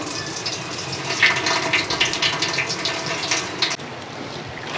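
Water pours and splashes steadily as it is drained from soaked bread in a home kitchen, a close, loud gushing stream that cuts off briefly near the end.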